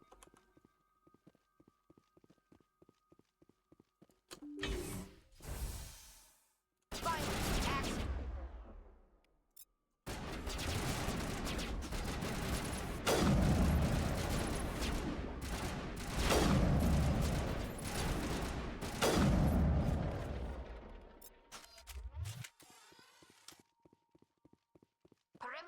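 Gunfire in the video game Mass Effect bursts in as a sustained, dense volley for about ten seconds, after scattered clopping footsteps and short bursts, then drops back to quieter, sparse taps.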